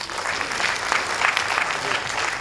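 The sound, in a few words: theatre audience loud applause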